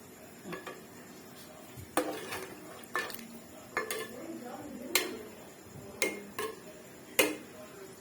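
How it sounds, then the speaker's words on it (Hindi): A spoon stirs and mixes chicken wing marinade in a bowl, tapping the bowl in a steady, sharp rhythm of close clinks about once a second. "डाल दिए इसमें मिक्स करके हल्का सा चम्मच जो है वो हिलाएंगे"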